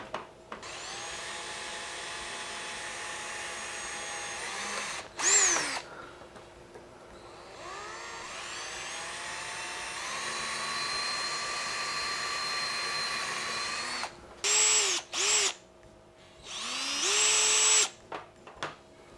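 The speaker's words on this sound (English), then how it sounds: "now that I've got the holes drilled for one side" A power drill whines through a series of holes, with long sustained high-pitched runs, brief stops, and short bursts of higher-revving spin near the end, fairly close and unaccompanied by talk.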